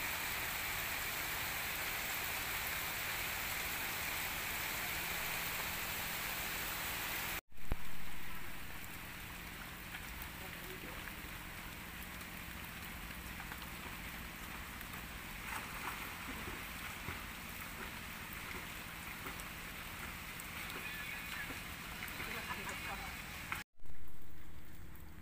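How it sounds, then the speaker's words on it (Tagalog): Heavy rain pours at Bukal Spring in Magsaysay, Occidental Mindoro, a dense, constant hiss of drops that stays loud throughout, with two brief abrupt breaks. "Ayan, ang lakas na ulan."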